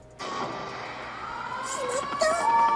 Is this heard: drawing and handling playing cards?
no